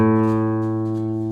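The fifth string of a guitar, tuned to A, is plucked once and rings out clearly and steadily, with a bright sustained tone that fades only slightly.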